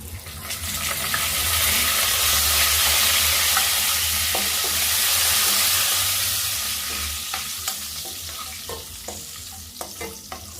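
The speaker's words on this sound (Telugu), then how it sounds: "ఇప్పుడైతే మనం ఎండుమిర్చి వేసుకుందాం, ఒకసారి కలిపేసుకుందాం." Dried red chillies, curry leaves and garlic fry in hot oil for a village-style egg and raw prawn curry, giving a loud, continuous sizzle that swells and then eases. A spoon stirs with scattered scraping clicks toward the end.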